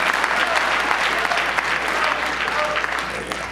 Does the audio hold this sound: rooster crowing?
no